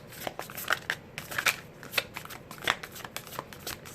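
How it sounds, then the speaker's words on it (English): A deck of Animal Spirit Oracle cards is shuffled close up, giving a continuous run of crisp riffling flutters and snaps with faint background noise. "I'm going to pull a couple cards from this Animal Spirit Oracle."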